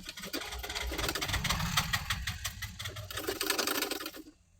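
A sewing machine runs steadily, stitching a triangle-shaped cloth design piece onto a blouse neckline, a dense rapid mechanical whir close up for about four seconds before stopping abruptly.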